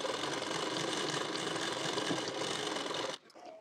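A sewing machine stitches a hem on a 34-size elite-cut blouse, running in one steady, close whir for about three seconds before it stops abruptly.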